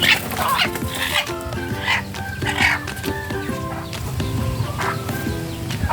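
Hens cluck repeatedly among other chickens, with a rooster-like call or two mixed in, close and fairly busy, with no talking.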